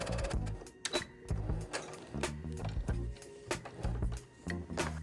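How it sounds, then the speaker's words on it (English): A sewing machine stitches a seam through pieces of fabric for a quilted mug rug, its needle mechanism chattering in rapid mechanical bursts with brief pauses as the fabric is guided, close and moderately loud. "I'm just going to sew right down here"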